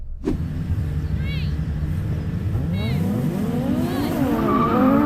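Audi Quattro cars launch off the line in a drag race, engines rising in pitch as they accelerate hard, with loud close engine roar and tire squeal building through the run.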